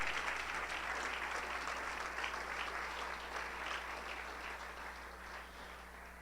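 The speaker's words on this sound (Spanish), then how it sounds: "Dale un aplauso al Señor." Sustained applause from a church congregation during a sermon, steady clapping filling the whole stretch with a slight fade toward the end, no voices on top.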